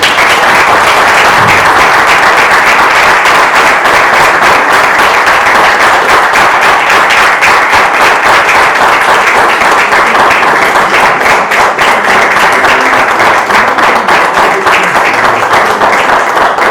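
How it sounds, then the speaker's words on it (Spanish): An audience at a children's story award ceremony gives the winners a loud, long round of applause, dense, rapid clapping sustained evenly close by, with no speech over it. "os pido un fuerte aplauso para los ganadores"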